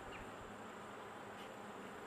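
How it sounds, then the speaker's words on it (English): Dense, steady buzzing of many honeybees inside an opened beehive, close and continuous with no pauses. "bees inside the hive"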